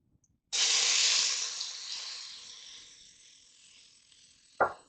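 Onion dropped into a hot pan of oil after searing short ribs, a sudden loud sizzle that bursts in and slowly fades to a softer hiss, followed by a brief clatter near the end.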